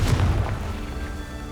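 A Confringo fire-blast spell bursts in Hogwarts Legacy, opening with a loud booming impact that quickly decays into a rumbling tail, with no voices over it.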